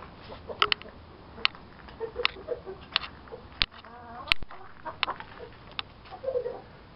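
Madagascar rooster near a hen, giving a series of short clucks and calls at a steady, spaced rhythm, close by and fairly clear, with other faint bird chirps around.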